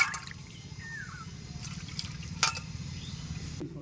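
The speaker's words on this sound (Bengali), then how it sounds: "এবারে লেবুর পাতাটা ধুয়ে নেওয়া হচ্ছে পরিষ্কার করে" Fresh lemon leaves rinsed by hand in water, with soft trickling and dripping splashes close by, steady and gentle throughout with a brief louder splash near the middle.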